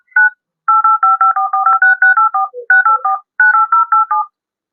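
Touch-tone telephone keypad beeps during a Sylheti comedy drama: a quick run of about twenty clear, evenly spaced dual-tone presses in several bursts with short pauses between them, close and loud with no talking.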